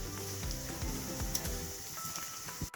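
A spoonful of chana dal and urad dal sizzling in hot oil, a steady, moderately faint crackling fry that continues for a few seconds, with a brief clatter at the end and no voices.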